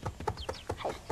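A chicken clucking in short, quick, fairly close bursts, several clucks in a little over a second with no talk over them.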